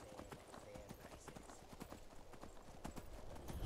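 Horse hooves gallop in a quick, steady clip-clop rhythm in the video game Skyrim Special Edition, close and continuous throughout.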